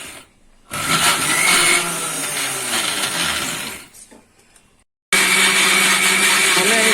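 An electric mixer whipping coffee, whirring loudly in bursts, running for a few seconds, stopping, then starting again, with no talking.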